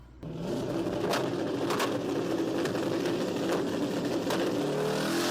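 Drag racing cars at a race, including Richard Guido's car, produce a steady, loud engine roar heard from a distance. Sharp bursts recur throughout and no one talks.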